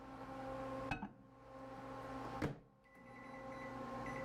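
A microwave oven hums steadily while fluorescent orange lure plastic cooks inside, the drone broken by two sharp clicks or clunks, with quiet gaps after each.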